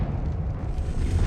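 A Confringo blasting spell from Hogwarts Legacy erupts as a low, rumbling explosive burst, moderately loud and sustained briefly without any talk.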